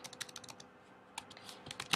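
Quick, irregular clicks of fingers typing on a computer keyboard, close and fairly faint, with short bursts and pauses and no talking.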